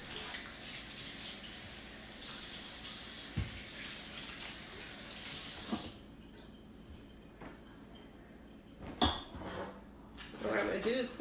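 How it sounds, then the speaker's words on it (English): Water running from a kitchen faucet as hands are washed during a baked oatmeal cooking demo, a steady rush that cuts off partway, followed by faint clinks and movement with a voice speaking. "Let me wash my hands."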